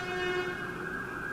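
An ambulance siren sounds steadily outside, a loud sustained wailing tone with a rising pitch that carries through the whole moment without any voices.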